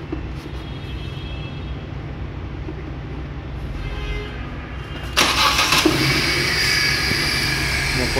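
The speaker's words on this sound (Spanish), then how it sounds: "Haremos una prueba ya con las 4 bobinas originales para ver el funcionamiento del motor con estas 4." A Suzuki K14B car engine runs on its four original ignition coils, a steady close mechanical hum that jumps louder and brighter partway through, with a voice talking over it.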